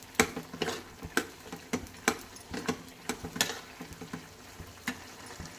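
Bitter gourd for hagalakai gojju frying in a pan until its water dries off: quiet, scattered crackles and soft pops at an irregular pace over a low background hiss, with no talking.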